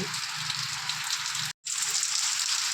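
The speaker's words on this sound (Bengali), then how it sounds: "দেখো কীরকম বৃষ্টি এক ঘন্টা হলো" Steady, dense hiss of heavy rain pouring down, continuous and close, with a brief total dropout midway before the downpour resumes.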